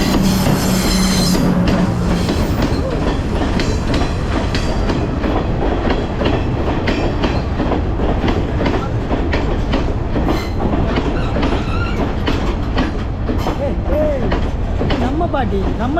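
A train runs past, clattering steadily on its rails for the whole stretch, loud and continuous, with a brief high squeal at the start.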